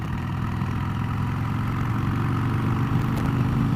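A 1997 Harley-Davidson Sportster motorcycle engine running steadily at a low, even rumble, close and constant with no revving and no voices.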